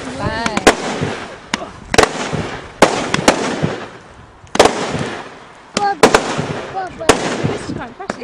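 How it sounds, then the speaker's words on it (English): Bonfire night fireworks bursting outdoors, a series of sharp loud bangs and crackling pops at irregular intervals, some in quick clusters, with people talking and exclaiming between them. "Any more fireworks? Yes, there's some more."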